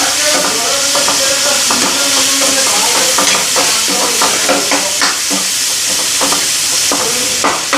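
An egg frying in oil in a pan while being stirred: continuous loud sizzle with rhythmic scraping and stirring strokes throughout, close and steady, with no talk.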